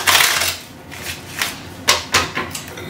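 Playing cards riffle-shuffled by hand at close range, with several quick papery bursts and short pauses between them.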